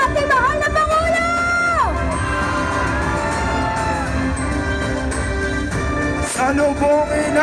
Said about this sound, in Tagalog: Salubungin natin ng palakpakan at sigawan at buong mainit ulan na suporta ng ating mga kababayan.